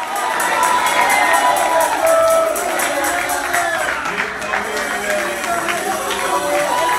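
A church congregation shouts "gloria" during a Spanish-language worship service, a loud sustained wash of overlapping voices and cries that fills the whole stretch with no pauses.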